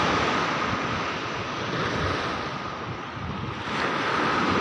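Sea waves wash onto a beach in Songkhla, Thailand, on the Gulf of Thailand, as a steady, loud, broadband surf roar mixed with wind buffeting, with no voices.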